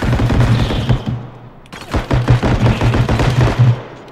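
Rapid bursts of automatic gunfire from the realistic shooter game Bodycam, a sustained volley, a short lull, then a second longer string of shots, loud and close with some echo.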